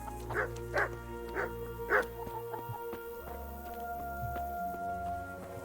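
Dog barking in the medieval role-playing game Kingdom Come: Deliverance, four sharp barks about half a second apart near the start, then quieter yips over a steady game ambience and low hum.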